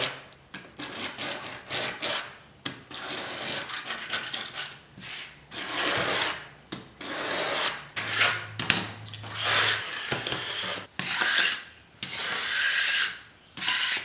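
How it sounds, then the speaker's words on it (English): Glue being scraped off a melamine workbench top, heard as repeated raspy, rubbing strokes in bursts of varying length with brief pauses between, close and fairly loud, with no talking. "Now we're going to scrape the glue off."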